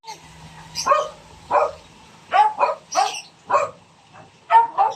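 Several dogs bark in short bursts, about eight barks spread through the clip, fairly close, with a low hum underneath and no talking.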